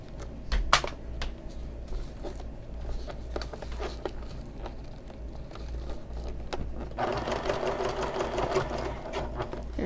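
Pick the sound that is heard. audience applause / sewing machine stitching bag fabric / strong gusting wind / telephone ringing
sewing machine stitching bag fabric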